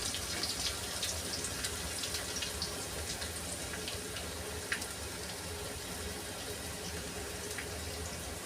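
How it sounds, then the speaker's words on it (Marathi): Water poured into a cooking pot for jowar-flour shengole, a faint, even trickle and splash that continues steadily in a quiet kitchen, with no talk. "आता आपल्याला शेंगोळ्या शिजण्यापुरतं पाणी टाकायचं आहे यामध्ये तर इथे मी पाणी टाकलेलं आहे"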